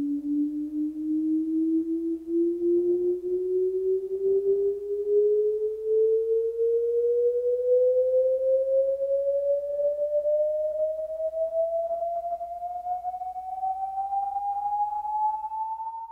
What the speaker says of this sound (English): So now, we'll play the test signal.